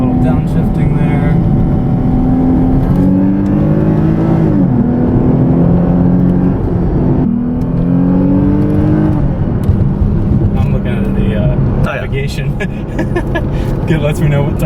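A 2008 Lexus IS 350 engine drops a gear and revs up, the pitch climbing and falling through shifts while steady road roar continues, loud and close from inside the car, with people talking over it.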